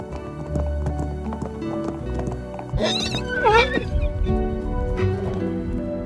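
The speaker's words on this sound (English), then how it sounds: "Camargue horsemen know this incredibly sure-footed little horse can be trusted, regardless of the terrain" Small, sure-footed Camargue horses move across coastal terrain with hooves clip-clopping steadily, while a loud neigh and whinny break out midway over the background sound.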